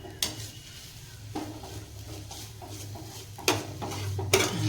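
Ridge gourd chutney ingredients fry in a pan at medium heat with a low sizzle, broken by several sharp scraping clanks of a spatula stirring against the metal.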